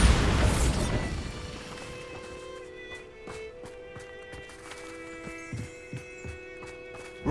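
A Bombarda spell in Hogwarts Legacy goes off as a loud booming blast that decays over about a second, followed by quieter ringing tones and scattered light thuds and clicks.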